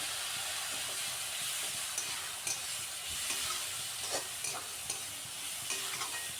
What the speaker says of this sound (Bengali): সামান্য জল দিয়ে এবার কষাতে হবে মশলাটাকে খুব ভালো করে